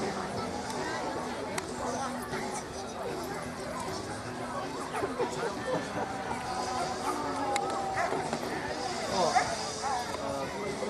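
A dog at an outdoor charity dog show gives a few yips and barks amid a busy crowd, mixed under nearby chatter and general hubbub from people talking.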